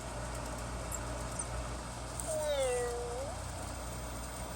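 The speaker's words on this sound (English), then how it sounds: "Emo. Make a cat sound." A small Emo desktop robot plays a synthetic cat meow, one drawn-out electronic mew in the second half over steady background hum.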